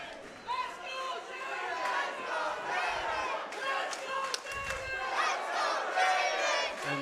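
Crowd at a premier MMA boxing event cheering and shouting for a favored fighter, a steady loud roar of many voices throughout with a commentator talking over it.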